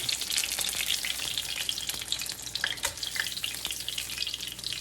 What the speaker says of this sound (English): Oil will pop, so just be careful.